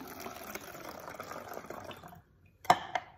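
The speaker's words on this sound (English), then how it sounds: "I'm going to get my funnel and pour just a bit of water in it" Water poured through a funnel into a bottle for a cloud-in-a-bottle experiment gives a short, close trickling pour that stops abruptly, followed by a single small clink and drip.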